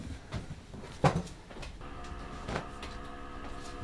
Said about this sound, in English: I'm going to overlock the bottom and then zigzag it up as a hem